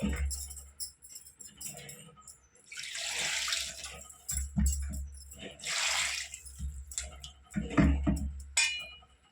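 Water runs and splashes in a few steady bursts, poured into a pot of fish curry with vegetables until the pieces are submerged, with low rumbling and some clinks between pours.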